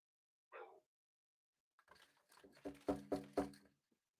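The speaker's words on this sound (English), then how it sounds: "interruptions from dogs that just don't know how to quit yapping" Small dogs yap indoors, one short bark followed after a pause by a rapid run of several sharp, close barks.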